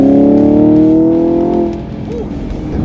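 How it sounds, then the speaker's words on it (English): A 2020 Chevy Camaro 2SS V8 engine revs hard at full throttle, a loud, close, rising tone held for about a second and a half before easing off into a lower idle rumble. "you want to floor the throttle for just a second"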